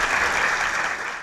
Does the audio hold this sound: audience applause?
yes